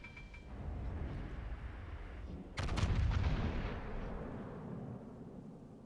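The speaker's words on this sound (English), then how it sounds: "That was a solid hit against the Montana right there with the AP shells. Pretty accurate salvo" Naval gun salvo of armour-piercing shells in World of Warships Legends, a low rumbling roar that swells with a sharp booming burst midway, then a lingering heavy rumble.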